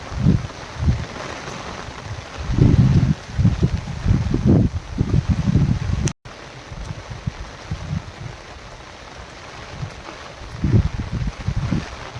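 Strong wind during a heavy rain round, enough to nearly lift an umbrella away, buffets the microphone in gusty, rumbling bursts. A continuous rushing hiss runs underneath, with a brief dropout midway.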